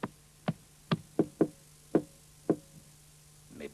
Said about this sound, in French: Il frappa.